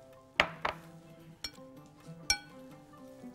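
A utensil clinks against a bowl while tuna pasta salad is stirred, four sharp, fairly close knocks spaced unevenly over a few seconds against quiet background tones.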